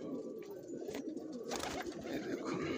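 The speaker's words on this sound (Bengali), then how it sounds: "যে পায়রাগুলো আপনাদের শখ করালাম, কোনো পায়রার সেলের মধ্যে নেই" Old-bloodline Gola pigeons coo softly and continuously, a faint, low murmur of several birds close by with no voices over them.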